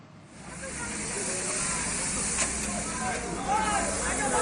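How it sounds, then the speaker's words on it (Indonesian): Fire burning through a mosque ambulance inside a garage, a loud continuous roaring hiss with crackles rising slightly over time; a voice speaks over it. "Inilah detik-detik saat api menghanguskan ambulans yang berada di garasi Masjid As-Salam"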